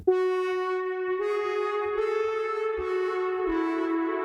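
A buzzy, harmonically rich synthesizer tone made in Serum sustains and shifts pitch in a few steps, its timbre swelling and morphing; no voices.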